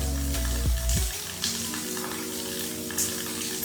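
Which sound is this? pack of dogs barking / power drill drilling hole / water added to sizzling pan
water added to sizzling pan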